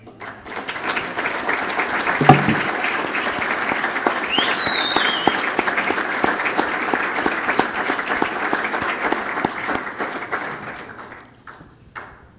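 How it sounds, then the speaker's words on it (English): A room of guests at a 2013 men's soccer all-conference awards reception gives the seniors a sustained round of applause, loud and full for about ten seconds before thinning out and fading near the end. "I'd ask for the rest of you to join me in a round of applause"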